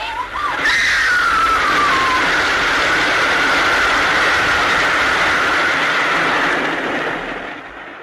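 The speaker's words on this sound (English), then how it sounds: "Oh, there's a train coming." A train sound effect from a 1957 radio drama rushes loudly past at close range, a roaring wash of noise with a squealing whistle-like tone at the start, fading slightly toward the end.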